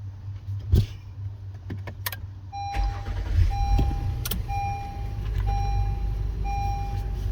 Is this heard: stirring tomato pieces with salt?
no